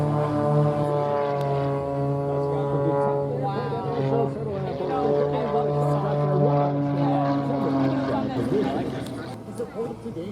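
An MXS aerobatic airplane drones at an airshow, a strong steady propeller engine tone with shifting pitch as it climbs with smoke on, while a crowd chatters and people talk over it.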